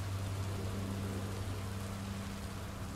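Rain in Minecraft: Story Mode, a steady soft hiss of falling drops with a low hum beneath, faint and unbroken, no voices.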